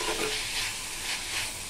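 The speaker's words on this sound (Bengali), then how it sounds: "এখন আমি সুন্দর করে মশলাটাকে মাংসের ভিতর নেড়ে নিব।" Spiced masala is stirred into cooked chicken and potato in a pan, a close, continuous sizzle with rhythmic scraping strokes of a spoon, heard alone for a moment.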